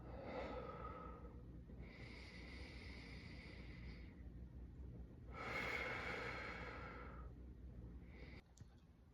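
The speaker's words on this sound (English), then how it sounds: "all you're gonna do is inhale for 4 seconds and exhale for 4 seconds as well" Slow, deliberate breaths drawn in and let out during a stretching routine, three long airy cycles lasting a few seconds each, close and fairly soft.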